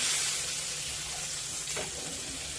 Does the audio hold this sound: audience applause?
no